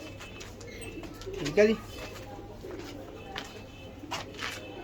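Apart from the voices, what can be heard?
pigeons cooing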